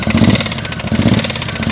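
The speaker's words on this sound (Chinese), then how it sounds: "听，就是这种乒铃乓啷异响的声音" Suzuki M109R motorcycle with a 1800cc engine, front cylinder cold, idling with an abnormal rattling clatter over a steady pulsing drone, loud and close, with no talk.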